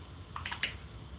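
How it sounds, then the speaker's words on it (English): Several quiet keystrokes on a computer keyboard, a short cluster of clicks over faint room noise. "I'm gonna type this just because"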